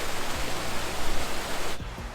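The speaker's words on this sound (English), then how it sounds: "I love this waterfall." A waterfall on a hiking trail sends up a constant, dense wash of rushing water. The roar is loud and close and covers everything, then drops away sharply near the end.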